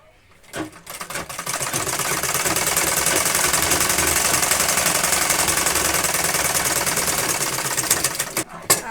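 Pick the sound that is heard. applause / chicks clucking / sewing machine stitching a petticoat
sewing machine stitching a petticoat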